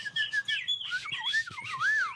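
Someone whistles in imitation of a cardinal, sliding, looping clear notes that swoop up and down in close succession, loud and near with no speech over them.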